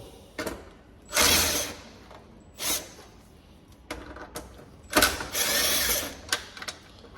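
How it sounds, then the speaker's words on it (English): Screws are backed out of the control board of a Frigidaire stove during a clock replacement, heard as several loud, close whirring bursts from a driver separated by quiet pauses. "Let's take these screws out."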